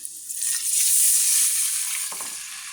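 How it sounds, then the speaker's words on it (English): Shrimp sizzle loudly in a hot frying pan, a steady bright hiss that swells and then eases slightly toward the end. "it's supposed to sizzle really cool, but if you do it wrong, then it like only sizzles a little bit"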